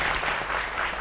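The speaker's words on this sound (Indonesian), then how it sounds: "Tepuk tangan sekali lagi." Audience applause at a televised youth show with a school English Club, a short steady burst of clapping filling the room with no voices over it.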